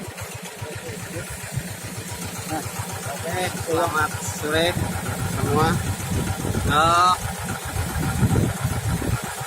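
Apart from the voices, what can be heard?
diesel engine idling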